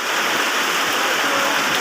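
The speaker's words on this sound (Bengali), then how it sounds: "এত বৃষ্টি হয়েছে দেখো তুফানকে বৃষ্টি তুফান" Heavy rain pours steadily, a dense, even hiss of water that stays loud and close for the whole stretch with no pauses.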